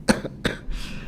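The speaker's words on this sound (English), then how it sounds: "I've got a cough" Two quick, sharp human coughs in close succession, close and fairly loud, followed by a short breathy exhale.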